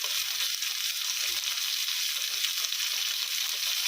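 Ivy gourd pieces frying in a pan with turmeric, curry leaves and salt, giving a steady, even sizzle with a few soft stirring knocks, close and continuous throughout.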